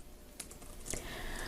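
A few scattered computer keyboard key presses, including the Hanja key for Korean character input, with sharp clicks near 0.4 s and 0.9 s over quiet room noise, no talk.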